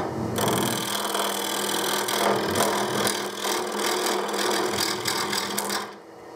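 Wood turning on a lathe spinning at about 1100 RPM with a large air gap in the blank, giving a steady broadband cutting and rubbing hiss with a low hum that runs continuously, then drops away abruptly near the end.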